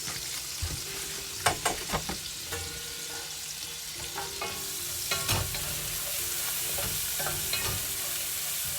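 Butter and onions sizzle steadily in a hot pan, a constant crackling fry broken by occasional clicks and scrapes of stirring.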